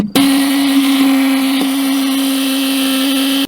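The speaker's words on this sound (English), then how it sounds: "that check valve was rattling so much" A check valve in an RV city fill fitting rattles under shop air pressure during winterizing, a loud, steady buzzing drone that starts abruptly and runs close and unbroken for a few seconds before cutting off.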